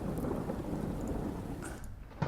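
A thunder sound sample from a Splice library, a low rolling rumble with rain hiss underneath, steady and moderately loud, ending in a brief sharper crack near the close.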